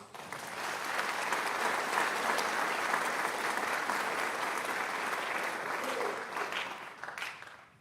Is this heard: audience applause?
yes